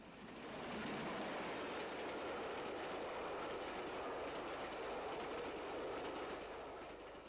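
Royal Scot steam locomotive with train passing southbound at Tamworth under overhead wires, a steady rushing roar with rhythmic clickety-clack of wheels, swelling in and fading slightly at the end.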